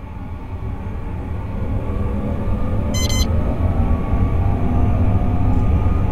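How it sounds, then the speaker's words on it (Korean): A Seoul metro train pulling away, a steady low rumble and motor drone building gradually, with a short electronic beep partway through, heard from inside the cab. "열차 발차."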